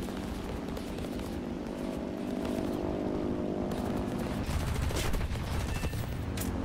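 Aircraft guns fire in a War Thunder dogfight over the steady drone of a propeller fighter's engine, the La-7B-20, with bursts of cannon fire continuing through the pass.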